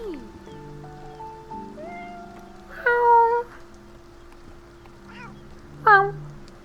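A cat meows twice, loud and close, over soft game-like background music and tones.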